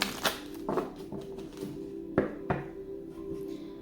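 Soft riffling and light taps of tarot cards being shuffled, a few quick flutters and knocks, close and quiet.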